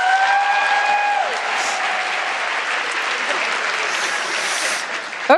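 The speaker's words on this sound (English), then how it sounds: "please clap and cheer." Audience applause with some cheering fills a conference hall during a live debate session, steady and dense throughout, with a brief whistle-like tone early on.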